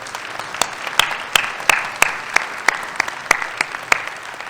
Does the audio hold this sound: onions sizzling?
no